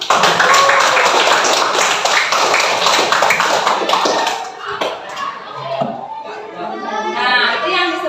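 A classroom of students claps in a lesson on Coulomb's law, a burst of many overlapping hand claps mixed with chatter that thins out toward the end as voices remain.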